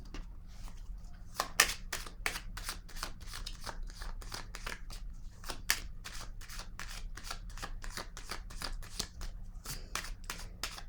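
A deck of tarot cards being handled and a card drawn: a long run of crisp, rapid card flicks and snaps, close and fairly even in rhythm.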